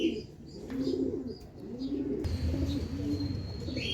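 Racing pigeons arrive back at the loft after a training flight, with repeated soft rhythmic cooing close by, faint wing and chirp sounds, and outdoor background noise.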